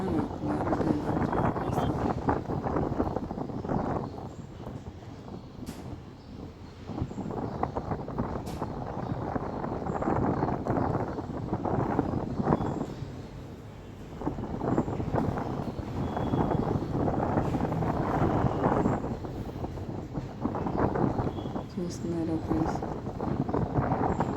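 Strong wind buffets the microphone in rough, rumbling gusts that swell and ease, loud and continuous.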